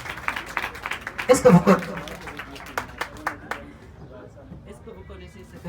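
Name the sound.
audience applause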